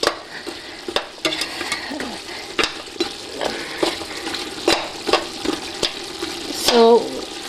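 Meat curry frying in ghee with Indian spices over high heat, a steady sizzle under regular scraping stirs of the pot, close and loud, ending in a brief splash of water, no speech.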